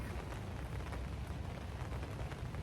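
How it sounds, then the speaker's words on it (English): Rain pours down in a garden in Los Angeles, a dense, steady patter and wash that continues without a break, heard close and alone with no voices. "I set up here in the garden and it immediately started to rain."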